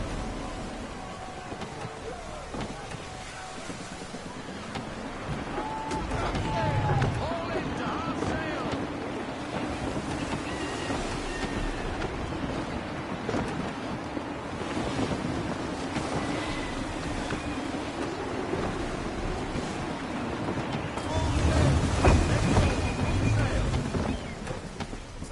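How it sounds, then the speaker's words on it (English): Gusty wind and rolling ocean waves surround a sailing ship at sea in Assassin's Creed III, a steady broadband roar with two heavier low swells. "Gusty winds can be difficult to manage."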